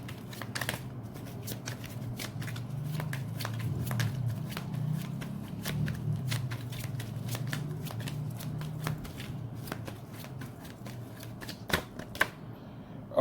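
A deck of playing cards shuffled close by, with repeated quick riffles and crisp flicks over a soft bed of rustling, running steadily with a few sharper snaps near the end.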